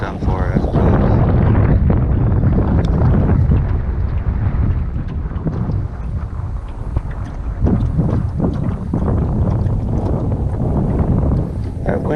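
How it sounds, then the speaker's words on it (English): Wind gusting across the water in a cove, a loud steady rumbling buffet on the microphone with shifting surges, heard from a small boat out fishing. "That wind just keeps reversing direction. It's pushing me out of this cove."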